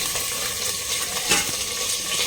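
Onions and garlic splutter as they fry in a covered pan for an Andhra-style kara chutney, a steady, close crackle and sizzle with small popping flares.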